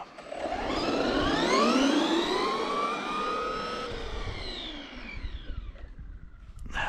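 A Traxxas Rustler 4x4 RC car with a brushless motor and a 15-tooth pinion screams past, its high whine rising and falling as it accelerates, sweeps away and returns close.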